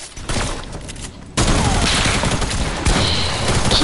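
Rapid gunfire from a multiplayer squad shooter video game, a dense burst that grows louder partway through and keeps rattling close to the end.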